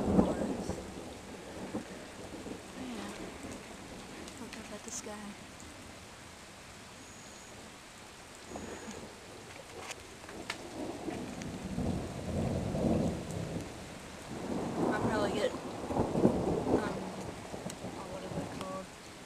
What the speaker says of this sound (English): It's lightning, and thundering, and raining.